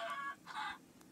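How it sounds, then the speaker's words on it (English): Minecraft chickens cluck in two short bursts close to the mic, with a faint third peep near the end and no talking. "There's a chicken here."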